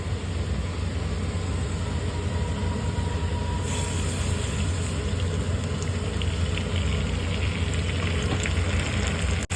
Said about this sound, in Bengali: পেঁয়াজটা বেশ গোল্ডেন ব্রাউন করে ভাজা হয়ে গেছে